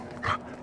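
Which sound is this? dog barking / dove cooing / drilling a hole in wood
dog barking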